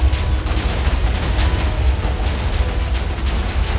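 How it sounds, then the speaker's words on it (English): Dense, continuous rumbling boom of many TNT explosions going off at once in Minecraft, a loud sustained roar with heavy low end and crackling bursts throughout, no voices. "Took that long just to load the explosions that were here."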